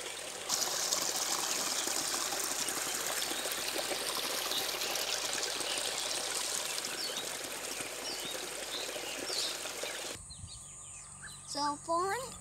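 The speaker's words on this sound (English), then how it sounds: "This is river." River water flowing steadily as a loud, continuous broadband rush, with faint bird calls near the end after the flow cuts off.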